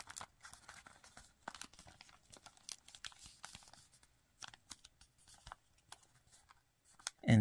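Origami paper is folded and creased by hand, giving faint, irregular rustles and crinkles close by, with a louder handling bump at the very end.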